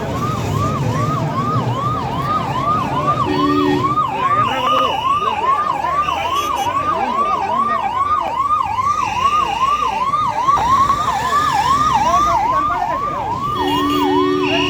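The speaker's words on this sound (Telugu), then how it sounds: "క్షతగాత్రులను అంబులెన్స్ లో హాస్పిటల్ కి తరలిస్తున్న సిబ్బంది" An ambulance siren wails continuously at the scene of a factory reactor explosion, its rising and falling tone loud and steady over road and engine noise, with short bursts of other sirens and horns around it.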